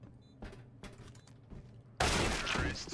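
Tec-9 pistol gunfire in Counter-Strike at a DreamHack Masters match, a few sharp separate shots rising to a loud, dense burst of fire near the end.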